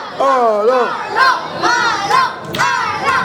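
A crowd at the Silver Geek 2024 seniors' video game tournament regional final cheers and shouts for a player, loud rising whoops in repeated waves with a few claps mixed in.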